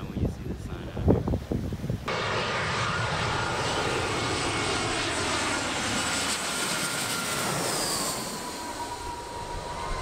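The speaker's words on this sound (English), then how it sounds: "we're about to see if we can catch some planes flying in for you guys" Jet airliner roaring in low to land over Maho Beach, a loud sustained engine rumble and whine that stays close and steady after a couple of seconds of voices and beach noise.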